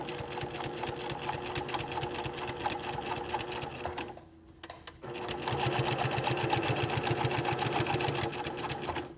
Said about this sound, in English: I'm going to be edge stitching a 1/16 of an inch over from the seam